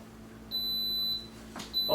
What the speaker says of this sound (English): the buzzer gone off